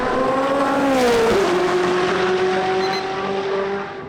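The Koenigsegg Sadair's Spear race car at Laguna Seca roars past loudly and close, its engine note climbing, then dropping briefly on a shift before holding a steady high drone as it pulls away.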